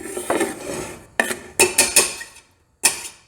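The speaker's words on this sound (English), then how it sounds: "So very carefully nudge your veggies into the pan without spilling them everywhere." Chopped vegetables for sweet potato chili being nudged into a cooking pan, heard as a few separate clinks and scrapes of utensil against pan, close and distinct with short pauses between them.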